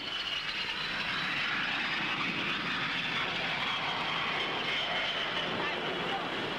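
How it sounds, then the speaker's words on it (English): A military jet aircraft lands using tail brake parachutes, its engine giving a steady, loud broadband roar and rush that holds throughout without a break. "This amazing aircraft can lower its nose to give better landing visibility and uses tail brake parachutes to shorten the run-in."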